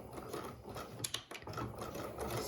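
A sewing machine back stitches across fabric tucks, a steady mechanical whir with rapid needle clatter and a brief pause as it reverses direction, close and alone.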